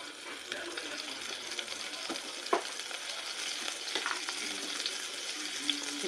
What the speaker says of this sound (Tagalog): Lagyan na natin ng mantika, guys.